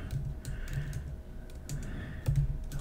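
Computer keyboard typing in quick irregular bursts of close clicks and key taps while navigating to a project folder, with brief pauses between runs of keystrokes.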